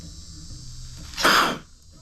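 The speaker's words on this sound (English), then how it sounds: "Oh, what's that? Big sneeze?" A pet lets out a single short, breathy sneeze, close and moderately loud, over a quiet indoor background.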